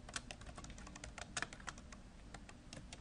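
Quiet, rapid tapping on a computer keyboard as a search phrase is typed in, a close run of light clicks with a couple of slightly louder strokes.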